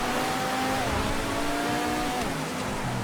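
Sabre GT muscle car engine in a GTA FiveM drag race, a steady droning roar with rising and falling tonal whine as it runs flat out, loud and continuous with faint voice underneath.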